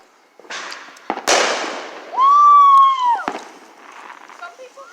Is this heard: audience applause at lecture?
no